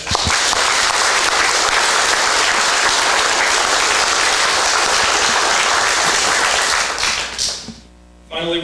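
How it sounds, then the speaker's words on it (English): Sustained applause from an audience at a high school National Letter of Intent signing ceremony for student athletes, loud and steady for about seven seconds before fading out near the end. "let's give a round of applause to Tanae Smith"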